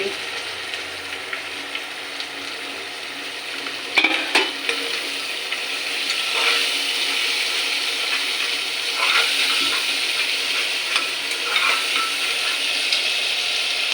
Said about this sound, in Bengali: তারপরে আমি দিয়ে দিচ্ছি কুচি পেঁয়াজ।